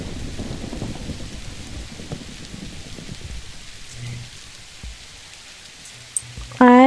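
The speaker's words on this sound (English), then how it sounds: "although it would be a shame if the thunder went and hit one of our builds" Rain patters steadily in the Forever World video game while low thunder rumbles roll in and out, and a brighter tonal game sound cuts in at the very end.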